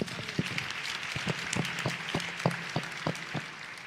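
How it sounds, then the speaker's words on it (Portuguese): A church congregation at a Mother's Day service claps in a steady, loosely rhythmic beat, distinct slaps repeating at a moderate level throughout. "Vamos aplaudir o Senhor em nome de Jesus."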